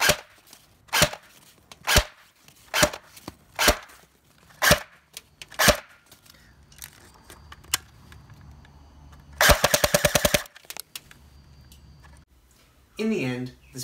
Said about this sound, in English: For this chrono test, I'll be using Elite Force